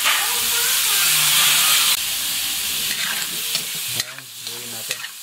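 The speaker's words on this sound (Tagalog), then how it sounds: "I-brown po natin para mawala po yung lansa at lumabas po yung natural na mantika ng baboy" Pork browns in a pan with a loud, close, continuous sizzle and hiss, easing partway through as scraping stirs and softer spatters take over.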